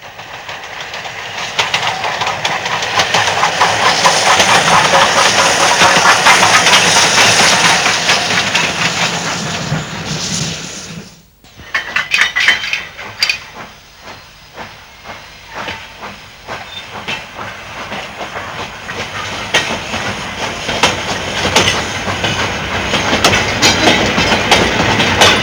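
Steam locomotive Oliver Cromwell running light on rails toward Bressingham Steam Centre: loud continuous steam hiss and chuffing, a brief drop in level midway, then wheels clattering over rail joints with renewed hiss, no voices.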